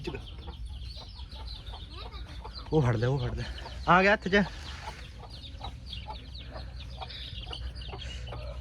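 Desi chicks and a hen cluck close by in short, repeated bursts, while someone talks over them in the middle.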